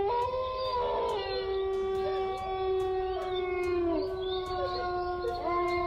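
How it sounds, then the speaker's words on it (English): Unexplained howling at night rises in long, layered wails from several voices at once, sustained and overlapping, with faint clicks under it. "What makes this video even creepier is the unexplained howling."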